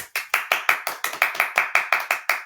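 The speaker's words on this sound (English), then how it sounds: "We should clap for her." A few people clap in a quick, even rhythm for a child who answered a quiz question about frogs, about a dozen sharp, close claps, loud and alone.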